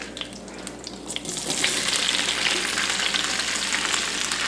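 Vegetables hit a hot pan for sautéing, starting with a few light clatters before a loud, steady sizzle and crackle swells after about a second and a half and holds to the end, with no voices.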